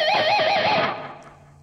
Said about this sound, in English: we've got those pinched harmonics like this.